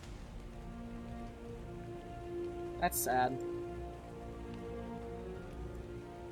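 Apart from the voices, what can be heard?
rain in the video game ARK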